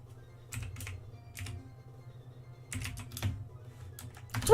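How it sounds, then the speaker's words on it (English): Bursts of computer keyboard typing during a Pokémon Emerald Rogue game session, several short clattering flurries separated by pauses over a steady low background of game music. "That's what I was typing!"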